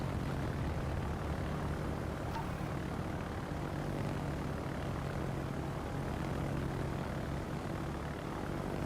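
Propeller engines of torpedo bomber aircraft in the World of Warships game drone steadily and evenly for the whole stretch, a continuous low roar with no talking.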